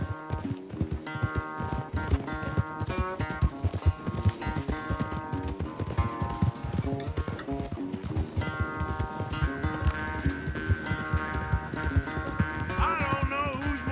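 Horse hooves gallop in a fast, rhythmic clip-clop during a race in a video game, loud and continuous under a swelling music score.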